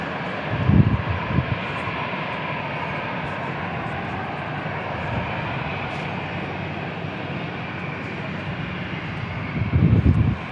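Southwest airliner engines at San Diego International Airport, a steady broad roar running throughout with louder swells near the start and end.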